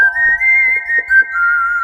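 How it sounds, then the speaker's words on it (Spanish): A whistle sound sample, one clear sustained high whistle tone with slight pitch wavering, loud and close, held for nearly two seconds with faint low thumps beneath it. "El silbido."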